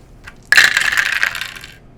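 Dice tumble across a table during a Marvel Crisis Protocol tabletop game, a sudden bright clatter of several dice rattling and settling over about a second, loud and close.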